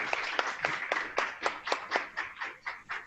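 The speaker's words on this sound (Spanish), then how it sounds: "un aplauso, por favor" Small audience applause after a talk on recording studio acoustics and design: sparse, distinct claps from a few people in an uneven rhythm that rises and falls, with no voices.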